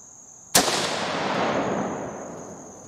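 A rifle fires a single Remington 30-30 Winchester round, one sharp loud crack followed by a long fading echo rolling away outdoors, with no talking.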